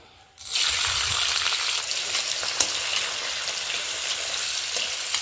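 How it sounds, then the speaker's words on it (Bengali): Carrots hitting hot ghee for fried rice, bursting into a loud, dense, continuous sizzle after a brief quiet start, close and steady with a few small pops. "গাজরটাকে আমি হালকা করে ভেজে নেব।"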